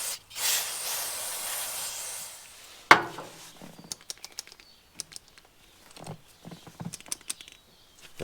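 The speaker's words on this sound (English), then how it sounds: "I'm gonna just clean it a little bit with some brake cleaner." Brake cleaner sprayed onto a gummy carburetor part of a 1954 Caterpillar No.6 shovel pony motor, a loud steady aerosol hiss for about three seconds, then scattered short clicks and handling sounds.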